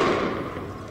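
A skateboard popping on a city street during a crowded Minneapolis protest, a single sharp, loud crack at the very start that decays quickly into a dull roar of street noise.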